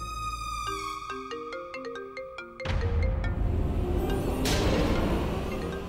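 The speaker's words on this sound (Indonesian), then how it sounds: "Prita, ponselmu berdering. Ayo cepat diangkat" A mobile phone ringtone plays a bright repeating melody of electronic tones, then a louder burst of noise and clatter takes over.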